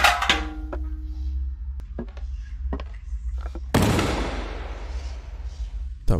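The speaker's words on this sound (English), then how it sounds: "That was a gunshot." A single sharp gunshot cracks out in an indie horror video game, a sudden loud broadband blast that decays with a rushing tail, preceded by sparse knocks and clicks in a quiet scene.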